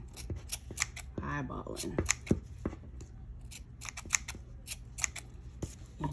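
Scissors snip around a yarn pom pom, trimming it into shape with repeated crisp close cuts in an uneven rhythm, while a voice talks briefly in between.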